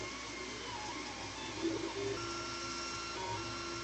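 A 3D printer runs at 130% print speed, giving a quiet, steady mechanical whir with faint stepper-motor tones and a slight rise partway through, heard alone.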